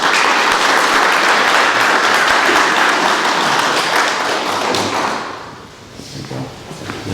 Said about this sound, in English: another round of applause for Keith, please